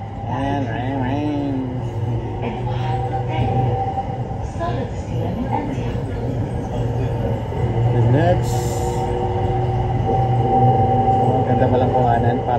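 A Dubai Airport Terminal 3 train pulls away, its low hum and rising whine climbing in pitch with faint squeals, while people talk throughout.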